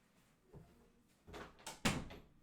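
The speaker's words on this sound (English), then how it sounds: "Hold on, I need to close this door." A door being closed in a room during an audio drama recording session, a quiet creak and shuffle building into two close thumps as it shuts, with no talk over it.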